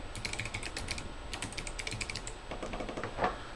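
Fingers type quickly on a computer keyboard, a dense run of close, crisp key clicks that pauses briefly, then resumes with a slightly louder tap near the end.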